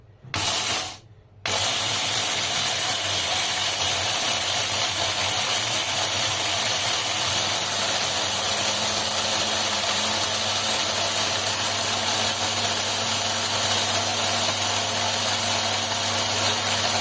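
An electric grain grinder milling barley for bread starts with a brief stutter, then settles into a loud, steady mechanical whine and hum that runs on unchanged.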